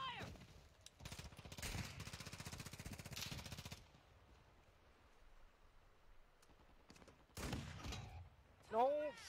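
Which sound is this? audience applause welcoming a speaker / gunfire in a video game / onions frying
gunfire in a video game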